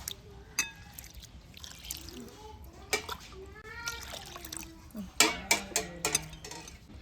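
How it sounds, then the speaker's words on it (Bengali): Rice rinsed in a bowl of water, with the water changed several times, in a home kitchen while making chitoi pitha. Splashing, swishing and clinking come in short bursts at close range, with a voice and other speech in the background. "এবার এক দুবার জল পাল্টে পাল্টে চালটাকে ধুয়ে নেব।"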